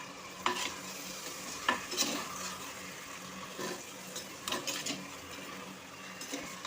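Tomatoes with a little salt sauté in a clay pot, a faint, steady sizzle broken by occasional soft stirring scrapes close by.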